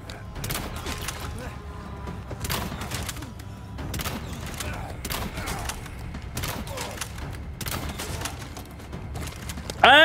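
Gunfire in Resident Evil 4 Remake during a hardcore boss fight, repeated loud shots and bursts spread through a busy, dense game mix with thuds and mechanical clatter, a voice speaking over it.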